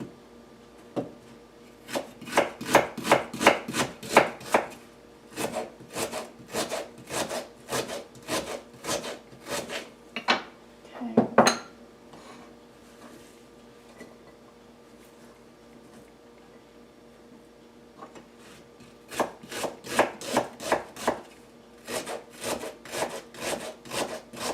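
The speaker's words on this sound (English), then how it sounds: "just one medium onion, diced up" A knife dices a medium onion on a cutting board in quick bursts of rhythmic chops, close and crisp, with pauses between runs and one brief clatter midway; no talking.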